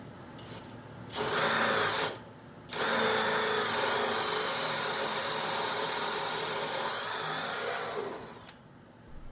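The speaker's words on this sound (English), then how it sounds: "I ended up using this portable drill press to help guide this through" A portable drill press bores a hole through the end of a wooden workbench, its motor whining loudly in two bursts, a short one then a sustained run of about six seconds, with no talk.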